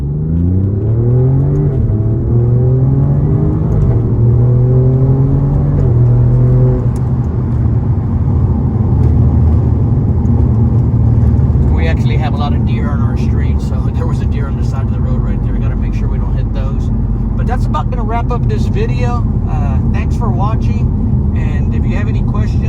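Alfa Romeo Giulia Quadrifoglio engine, heard with the windows down, revving up in rising and falling sweeps and then settling into a loud sustained rumble, while a person talks over the later part.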